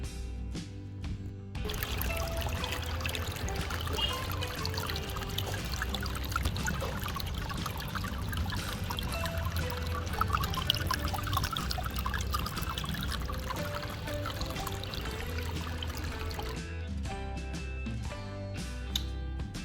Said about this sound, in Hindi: फिर फाउंटेन को पानी से भर रहा हूं।